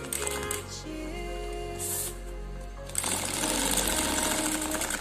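A sewing machine stitches a seam, its motor whirring in a steady, loud run close by, briefly easing and then speeding up again, with no talking.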